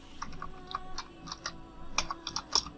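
Rapid keystrokes as someone types code on a computer keyboard, a quiet, irregular string of close clicks with short pauses between clusters.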